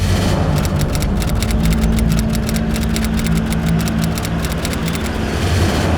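The police superintendent's car idles and rolls in with a steady, loud engine rumble and a constant low drone, no voices over it.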